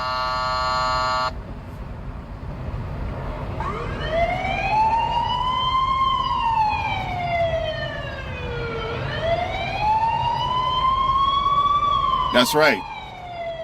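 Wailing emergency vehicle siren, loud and close, sweeping slowly up and down in long rising and falling tones after a brief horn-like blast, with a short burst of speech near the end.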